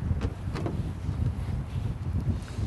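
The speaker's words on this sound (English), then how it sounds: "Good old wind helping us." Wind buffeting the microphone on the Clark Fork River during a fishing trip, a rough low rumble with gusty swells and faint rustling from the boat, steady throughout and without speech.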